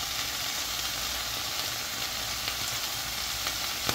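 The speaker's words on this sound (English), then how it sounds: "You still need more frying, so I'm gonna wait a little." Cheese frying in a pan as a simple appetizer, giving a steady, dense sizzle that holds evenly throughout with no pauses, close and continuous, with no talking.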